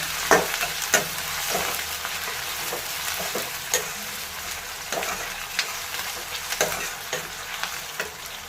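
Green chillies and onions fry with a steady, loud sizzling hiss while a spoon scrapes and stirs them in repeated sharp strokes across the pan.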